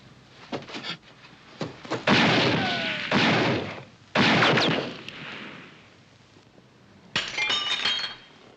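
Loud sharp gunshots from someone shooting up the town in a western film, several spaced bursts with ringing tails and glassy crashes, loud and close.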